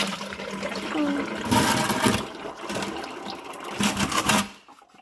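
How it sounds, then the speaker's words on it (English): Engine oil pours from a New Holland 655E backhoe's drain plug into a bucket, a steady close-up rushing stream of liquid with a few louder surges throughout. "It's sure draining fast."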